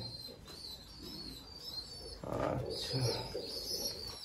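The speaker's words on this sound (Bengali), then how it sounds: "সিলভার রিং 35 পায়রাটা দেখলেন।" Pigeons in a Madrasi pigeon loft coo softly and chirp, faint and close, with a voice speaking briefly alongside.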